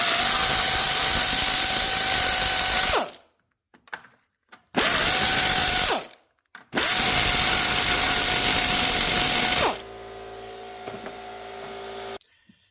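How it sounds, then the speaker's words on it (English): An impact gun removing a large 18mm bolt on a Ford Mustang, in three loud sustained bursts of high whining buzz with short gaps between, followed by quieter clanking of tools up close. "I use my impact gun here to get the bolt out"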